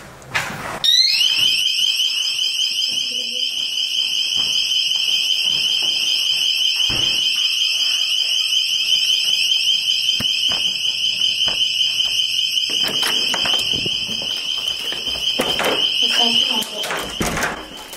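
A fire alarm in the historic El Cortez hotel shrills a continuous, loud, high-pitched tone that runs steadily for many seconds while people talk nearby.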